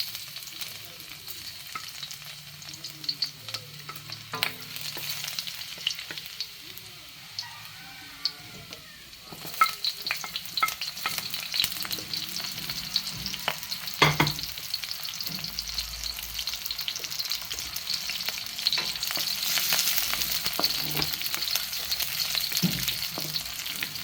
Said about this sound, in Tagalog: Saute ng garlic and onion.